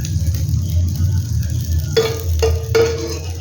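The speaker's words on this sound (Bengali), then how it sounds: "বাকিগুলো আমি একইভাবে ভেজে নেব।" Pancakes frying in a pan give a steady low sizzle throughout, broken by three sharp clinks of a utensil against the pan near the end.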